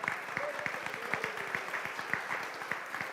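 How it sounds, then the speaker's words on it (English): Sparse, fairly faint applause for speakers at a conference plenary session on civil society and democracy: a thin scattering of individual claps in an uneven rhythm within a large, reverberant hall. "A huge round of applause for our speakers."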